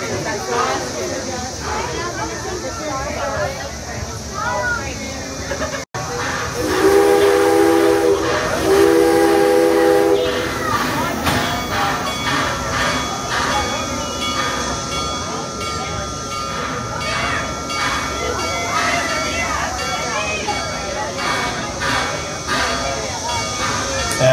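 Six Flags St. Louis amusement-park railroad train departing the station, with a steam whistle blowing in two blasts amid rumbling wheels and chugging, under continuous talk from a narrator over the loudspeaker.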